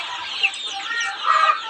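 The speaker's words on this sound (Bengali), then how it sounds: "এবং আমাদের এখানে আরও কিছু শৌখিন মুরগির জাত আছে।" Chickens cluck at a poultry farm that keeps fancy breeds, giving short bursts of clucking close by with one louder squawk near the end.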